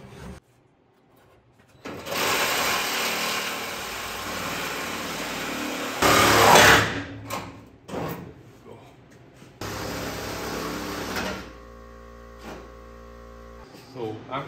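Reciprocating saw cutting through a factory body seam on a 1966 Triumph GT6, loud rough buzzing bursts stopping and restarting several times with short pauses between, close up.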